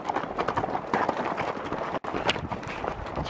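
Hooves clip-clop steadily on a trail ride, a dense patter of close hoofbeats with wind and rustling noise and no talking.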